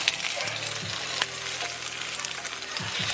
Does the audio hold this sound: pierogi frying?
yes